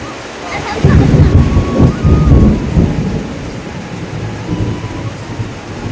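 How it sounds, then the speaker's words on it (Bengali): Heavy rain drums on a roof while deep rumbles of thunder roll through, loudest early on, then settle into a steady downpour. "তো প্রচণ্ড জোরে বৃষ্টি হচ্ছে, চটচট চট করে শব্দ হচ্ছে।"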